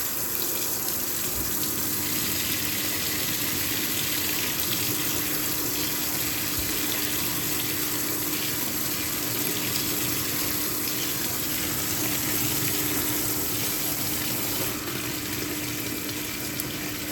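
Fisher and Paykel CleanSmart washing machine filling with a warm mix of hot and cold water, a steady, loud, continuous rush of running water that stays constant throughout.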